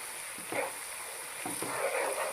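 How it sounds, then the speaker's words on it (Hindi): Ginger and garlic frying in a pan give a steady, moderate sizzle with a few soft scrapes of stirring, heard close and alone. "ये मैं थोड़ा सा फ्राई कर लूँ अदरक लहसुन को"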